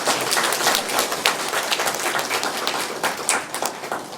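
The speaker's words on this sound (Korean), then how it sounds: "박수 한번 쳐주세요." A church congregation at a Sunday service applauds, with dense, continuous clapping from many hands that stays fairly loud and even for several seconds.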